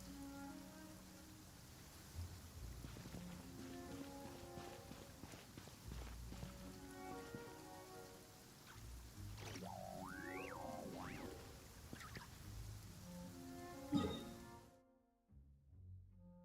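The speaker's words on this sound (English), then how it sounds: "It always rains when I go on an adventure." Steady rain falling in the video game Genshin Impact, a continuous hiss with game sound effects, footsteps and music-like tones layered over it, cutting out abruptly near the end.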